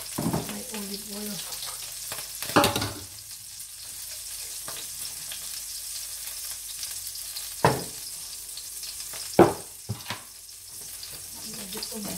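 Olive oil sizzles in a pan for stir-fried beef: a steady, moderate frying hiss runs throughout, broken by a few sharp utensil knocks and clinks.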